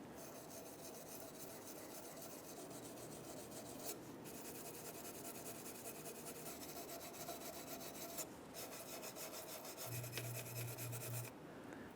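Steady wire-brush scraping on the brake shoe contact points of a rear brake backing plate on a 2012-2020 Chevrolet Sonic, a continuous close raspy rubbing with brief pauses and no talk.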